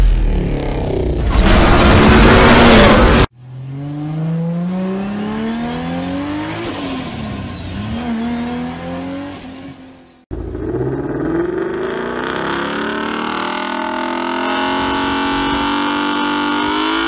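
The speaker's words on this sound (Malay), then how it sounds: "Ini V8." A Ford Mustang GT V8 engine revs loudly close by, opening with a harsh burst and then climbing and falling through repeated high revs, nearly alone with barely any talk.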